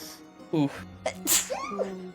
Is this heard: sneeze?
yes